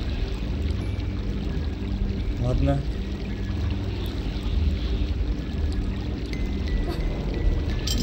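Water sloshes and pours continuously in American McGee's Alice, a close, steady watery wash with a brief gurgle near the middle, under a man's brief speech.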